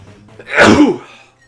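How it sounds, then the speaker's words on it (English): A single loud, close human sneeze rises sharply and fades in about half a second, with a quiet room before and after. "I'm gonna sneeze."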